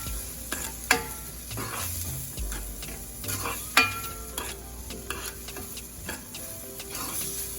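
Meat pie filling with red pepper cooking in a pan gives a steady close sizzle, with soft stirring scrapes and a couple of sharp utensil clicks against the pan.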